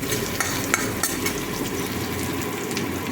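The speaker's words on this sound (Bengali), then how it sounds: "আস্তে করে পেঁয়াজ ভেজে নিলাম" Onions fry gently in a pan over a low gas flame, a steady close sizzle with light scrapes and clinks as they are stirred.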